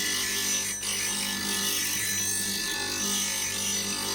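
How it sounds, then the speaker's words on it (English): A woodturning gouge ground on a bench grinding wheel, the nose shaped first: a steady, continuous whirring hum with faint grinding rasp, constant level, no speech. "Find the bevel, grind the nose first,"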